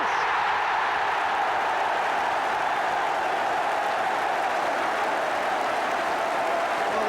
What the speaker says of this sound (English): the crowd showed their appreciation